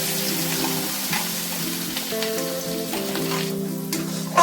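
A fish roe mixture is poured into hot oil with cumin and fries in a close, continuous sizzle, with a faint steady hum beneath and a small clatter at the very end.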